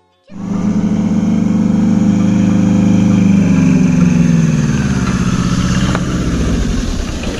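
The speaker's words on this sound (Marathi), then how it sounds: "हे बघा टेम्पो आलेलं आहे." A tempo, a small goods truck, starts up with a sudden onset and then idles loudly and close by in a steady mid-pitched engine drone that eases slightly toward the end.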